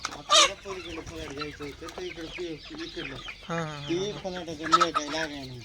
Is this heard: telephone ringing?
no